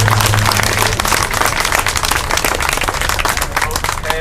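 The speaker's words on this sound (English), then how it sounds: "Let's give yourselves a round of applause for getting through that." Applause from a meeting audience after working through all the listed positions, a dense, continuous patter of clapping throughout, with some speech mixed in near the start.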